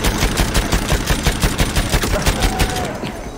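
A gun fires a fast, evenly spaced string of loud shots in the shooter game Battlefield 1, about a dozen sharp reports close up, fading slightly at the end.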